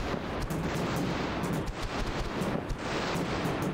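Cannon fire from airships in the video game Airships: Conquer the Skies: a dense, continuous barrage of booming shots and blasts overlapping into a loud, rumbling battle din.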